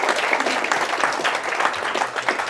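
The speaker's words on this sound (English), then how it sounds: "if everyone can give Josh and the whole team a massive round of applause" A large audience at a business event gives a round of applause for the team, steady dense clapping throughout, loud and close.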